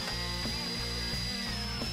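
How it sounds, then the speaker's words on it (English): A power drill bores steadily and loudly into a silver bar being tested for a lead core or other metal, producing a continuous high whine with slight grinding changes in load. "you have to drill deep enough to make sure there's not a lead core or some other metal in the middle of the bar"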